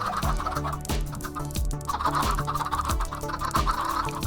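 A Minecraft chicken clucks in repeated bursts, close and clear, with a bouncy looping beat of game music underneath.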